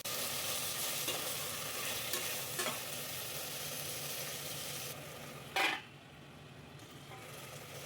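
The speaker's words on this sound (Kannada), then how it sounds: "ಸೊ ಈಗ ಅದನ್ನು ಹಾಕ್ಕೊಂಡು ಈಗ ಫ್ರೈ ಮಾಡ್ತಾ ಇದ್ದೀನಿ" Ginger garlic paste and chopped tomatoes fry in a pan with a steady, close sizzle that holds throughout, broken by a brief louder clatter near the end; no one speaks.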